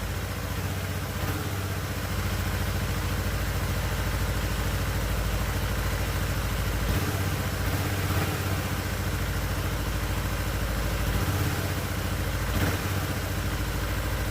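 Small Yamaha Morphous scooter engine idling steadily at low volume just after an oil and filter change, a soft even putter with faint clatter and no voices.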